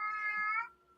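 A cat lets out one drawn-out, tonal meow up close, holding steady before cutting off into quiet.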